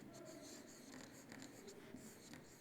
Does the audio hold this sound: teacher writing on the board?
yes